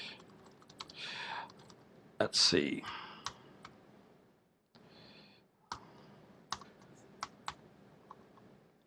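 Quick bursts of typing on a computer keyboard during a conference talk, with sharp clicks and taps in uneven clusters close to the microphone, a short spoken remark near the start, then scattered keystrokes.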